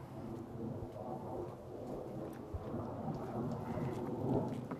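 Steady rain falling with low rolling thunder rumbling underneath, a continuous dull roar that swells slightly toward the end.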